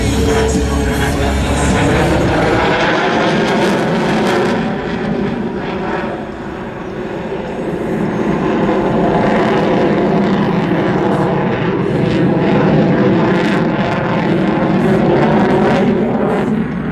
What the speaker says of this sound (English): The F-16's fly-by-wire flight control system that allows the jet to draw such precise corners